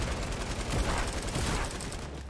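Dense, continuous automatic gunfire from a video game, loud and close, a steady roar of bursts that drops off abruptly near the end, with no clear voices.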